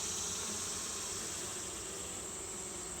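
Honeybees buzz in a dense, continuous drone close by while a hive is opened for inspection, a steady insect hum with no talk.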